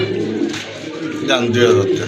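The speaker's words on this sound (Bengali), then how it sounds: "মাশাআল্লাহ অনেক সুন্দর কবুতর, দেখেন কালারফুল কবুতর" Colourful racing pigeons for sale coo in a low, throaty rumble that runs steadily under a voice, with a few brief brighter calls mixed in.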